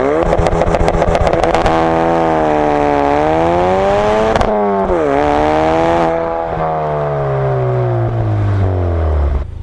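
A Ford Focus RS exhaust roars at launch: a loud, close engine rev holds, dips and climbs, with a sharp pop near the middle, then pitch rises and falls as the car pulls away, no talking.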